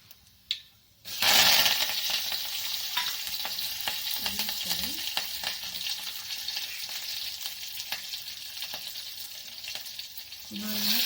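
Cumin, mustard seeds, garlic, green chili and curry leaves hit hot oil with a sudden loud burst of frying, then settle into a steady crackling sizzle marked by occasional spoon clinks and stirs, close up with no talking.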